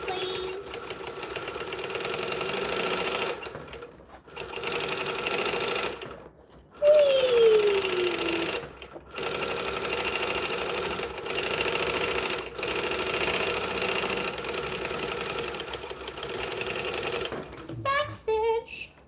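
Sewing machine stitching a bag, a loud close steady mechanical whir in long bursts separated by short pauses, with a brief backstitch and snip near the end and some talking mixed in.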